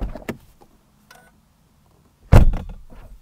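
Heavy car door of a Volkswagen Arteon Shooting Brake R-Line slams shut with one loud, solid, close thud, preceded by faint handling clicks and a brief rustle.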